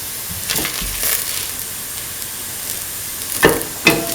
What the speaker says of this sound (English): Put in the red chillies